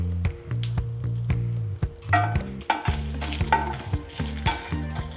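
Cumin seeds and dried red chillies sizzling in hot oil while being stirred in a pan, crackling bursts and a spoon clinking against the metal in an uneven rhythm.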